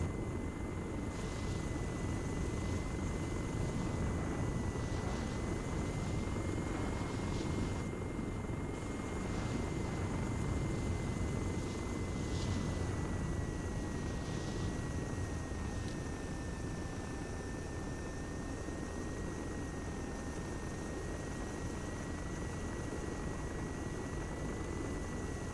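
Helicopter in Arma 3 on a Malden map with a damaged tail rotor, droning steadily and loudly throughout with a constant rotor whine and engine rumble, no break in the noise.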